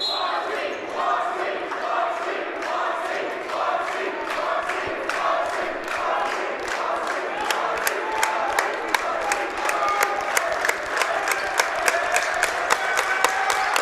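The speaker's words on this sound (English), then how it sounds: "Crowd cheering on Lucas Muncy." High school boys basketball crowd cheering and shouting for a player during a Newton Falls Tigers vs LaBrae Vikings game, a steady roar of voices with sharp repeated ball bounces or claps growing more prominent toward the end.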